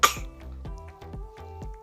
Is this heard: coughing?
yes